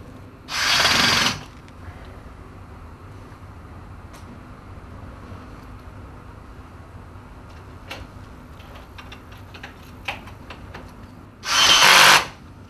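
A power drill drives screws into a Max S Series chassis, two loud whirring bursts of about a second each at start and end, separated by quiet handling clicks and taps.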